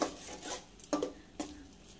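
Cashew masala being stirred in a pan for fish curry, a few soft scraping rubs of the spoon against the pan bottom, close and quiet, with no talking.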